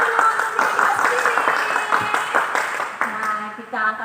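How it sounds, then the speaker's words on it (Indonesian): Children and adults at a Sunday school service clap their hands together, a brisk burst of scattered applause, with a voice speaking over the clapping and a short musical tone near the end. "Ayo tepuk tangannya dulu untuk diri kita sendiri."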